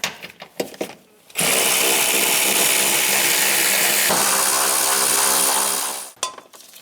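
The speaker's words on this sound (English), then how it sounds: "Using a 17mm socket, we're going to remove the 4 nuts for our seat." A power tool drives a 17mm socket to loosen seat nuts inside a Chevrolet Express 2500 van, a loud steady whir lasting about five seconds between short clanks and handling noises.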